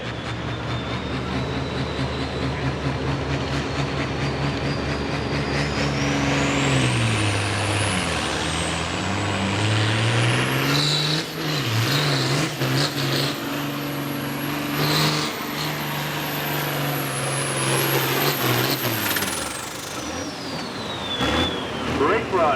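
Pulling truck at a Langford, New York truck and tractor pull, its engine held at full throttle and screaming loud and close with a rising whine and roaring drone that sags and recovers several times while an announcer talks over it.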